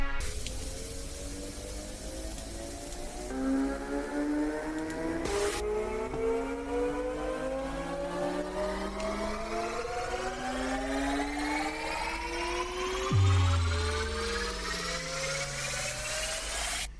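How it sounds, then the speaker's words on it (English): Layered riser effects climb steadily toward an EDM drop in a dance track, with many tones sliding upward together over a noisy wash, a sharp hit near the start and a deep downward sweep late on, loud and continuous throughout. "they are just there to hype up the track, build it up towards the drop"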